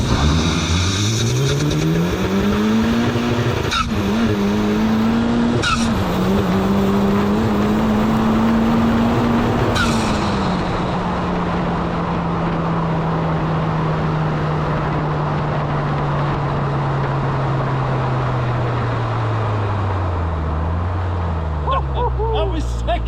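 An Ariel Atom 4 accelerating hard in second gear: a loud, rising engine howl that climbs steadily, with brief shift-like breaks and a long held high note, heard from inside the car, with voices underneath.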